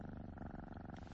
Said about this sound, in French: Le ronronnement en dit très long sur un chat.